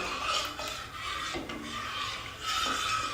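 A spoon stirs blanched spinach paste into broccoli almond soup in a pot with a soft rasping, scraping sound that repeats in slow strokes, close and fairly quiet, with no voices.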